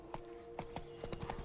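Hooves of the horse Roach in The Witcher 3 video game clip-clop in an uneven trot as it approaches, moderately close, over a steady game soundscape.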